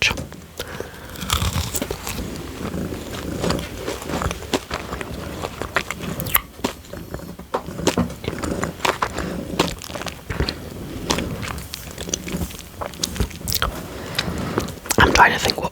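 Close, soft crunching bites and chewing of a sherbet-filled wafer Halloween sweet, with intermittent whispered talk running throughout.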